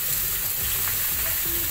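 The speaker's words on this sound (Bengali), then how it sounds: "শাকটা ভাজা বসিয়ে দিচ্ছি আমি" Chopped leafy greens frying in a hot pan, a loud continuous sizzle with faint stirring, close up and with no talking.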